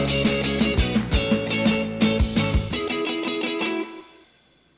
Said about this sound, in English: add a cymbal crash effect